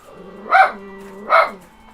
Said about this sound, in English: Why are you barking, my man?